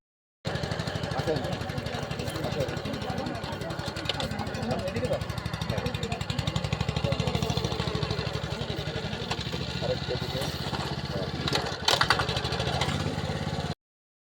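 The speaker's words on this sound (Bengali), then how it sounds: "মেশিন দিয়ে ধান লাগালে আমাদের ধানের চারার যে রোপণের সমস্যা সেটা থাকে না" A rice transplanter machine planting seedlings in a paddy field, its small engine running with a steady, loud, rhythmic chugging throughout, while someone talks over the noise.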